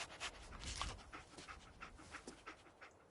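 Dogmeat, the dog in Fallout 4, pants in quick rhythmic breaths, soft and close, with a short whimpering catch partway through and no talking over it.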